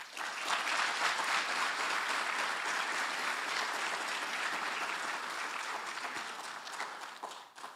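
Warm applause from a conference audience at an international health conference after a keynote speech, steady dense clapping that holds for several seconds before thinning out.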